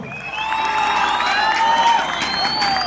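Crowd at a dance competition on a ranch in Mexico breaks into steady applause and cheering, with whoops and shouts over the clapping, moderately loud throughout.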